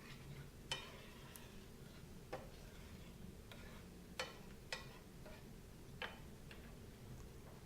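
Almonds coated in sugar and cinnamon stirred in a pan give off faint, sparse clicks and taps at irregular intervals over a quiet background hiss.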